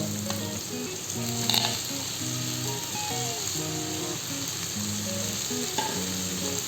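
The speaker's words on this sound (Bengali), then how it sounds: "দুই থেকে 3 মিনিট খুব ভালো করে ভেজে নিতে হবে।" Dhenki fiddlehead fern greens fry with spices in a pan, giving a continuous faint sizzle with scattered stirring scrapes, while tonal background music plays throughout.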